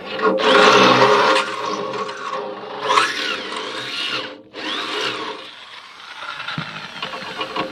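A power drill whines steadily at high speed, with shifting pitch as it bores through material, close up and loud throughout, during motor replacement on a homemade fodder chopper.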